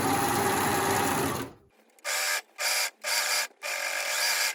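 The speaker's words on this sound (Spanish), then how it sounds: "También le voy a pasar la over a esta parte del cuellito" An overlock serger stitches a blouse collar, first one long loud run, then a pause and four short separate bursts of high whirring, close up with no speech.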